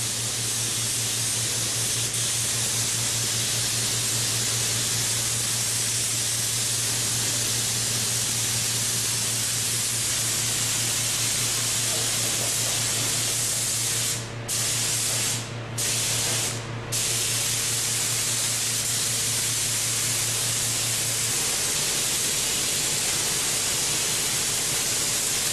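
Spray gun laying a metal finish coat onto an aircraft wing, giving a loud, steady broadband hiss throughout with a low hum beneath and a few brief interruptions near the end as the gun is released between passes.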